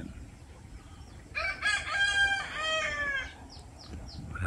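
A Rhode Island Red or Black Australorp heritage rooster crows once, loud and drawn out, nearby, with softer clucking and hen sounds around it against light background noise.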